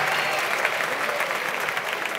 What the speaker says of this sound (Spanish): les quiero pedir un aplauso para Jorge